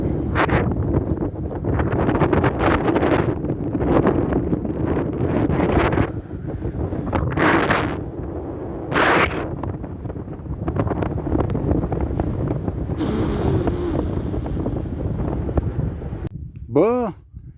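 Gusts of wind buffet the microphone outdoors during a bike ride across a bridge by a lake, loud rumbling bursts that come and go for the whole stretch, with a voice talking intermittently over them.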